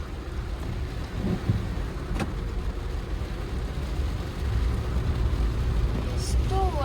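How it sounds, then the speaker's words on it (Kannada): Heavy rain falls during a journey toward a waterfall near Madikeri, a steady broad wash of noise with low rumbles and a brief distant tone near the end. "ಈಗ ಸಿಕ್ಕಾಪಟ್ಟೆ ಜೋರಾಗಿ ಮಳೆ ಹೋಗ್ತಿದೆ ಆ್ಯಕ್ಚುಲಿ"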